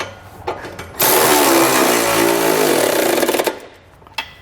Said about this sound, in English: tighten up the bottom bolts using an 11/16 socket